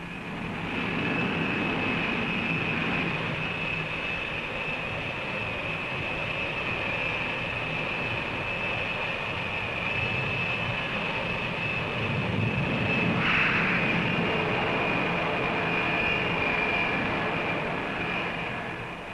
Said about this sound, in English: Strops attach to the shuttle, and the aircraft is literally catapulted into the air.